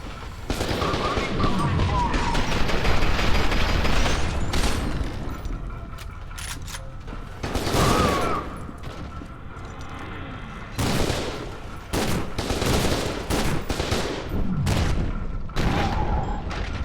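Several grenade blasts in the shooter game F.E.A.R. 2, loud bursts spaced across the clip amid continuous gunfire, with speech in the mix.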